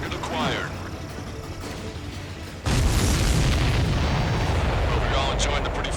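Heavy explosions and booming blasts in the combat flight game Ace Combat 7, a sudden loud broadband burst after a quieter rumbling stretch, then sustained dense roaring detonations to the end.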